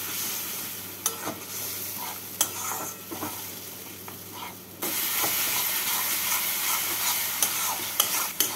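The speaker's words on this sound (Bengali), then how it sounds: "এবার মশলাটাকে ভালো করে কষিয়ে নেব" Spice paste being stir-fried in a pan for a Bengali fish-head and potato curry: a steady close sizzle with sharp scrapes and clacks of the spatula every second or so, the frying growing louder partway through.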